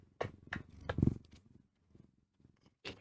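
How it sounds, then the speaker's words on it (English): A domestic cat purrs close up, a low rhythmic rumble that pulses steadily and then fades into quieter stretches before starting again. "She's purring up a storm."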